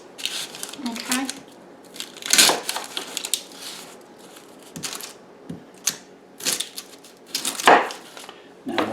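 A knife slicing an onion in a home kitchen for slow cooker sausage and potatoes: irregular crisp cuts and taps on a board, near and fairly loud, with people talking between strokes.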